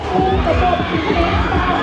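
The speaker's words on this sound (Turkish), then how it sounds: "İnsanlar çığlık atıyor." Riders scream on a small, very fast-spinning Ferris wheel at a night market, a loud chorus of shrieks and shouting from a crowd nearby.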